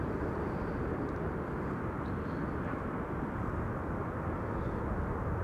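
Aircraft PH-BXY, arriving from Birmingham at Amsterdam Schiphol Airport, makes a steady low jet rumble that holds at an even, moderate level throughout, with no voices.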